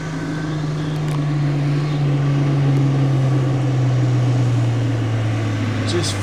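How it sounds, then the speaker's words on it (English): An off-road vehicle engine on a bush track drones at high revs, a strong steady tone that slowly sags in pitch as the revs die away, with faint talk over it. "Just feel the revs starting to die."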